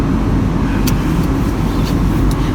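A car engine idles with the heating vent blowing on a cold day, making a loud, steady rumbling hum with airy rushing noise and a few faint clicks, close and continuous.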